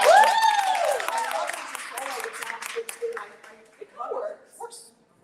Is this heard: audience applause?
yes